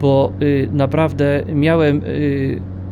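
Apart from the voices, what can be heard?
None of the usual background noises is heard.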